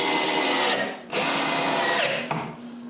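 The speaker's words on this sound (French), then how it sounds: "On commence par visser le petit cadre du bas en place." A power drill drives screws into a pine cabinet frame in two loud, whirring bursts separated by a short pause, then a brief final run, close up with no talking.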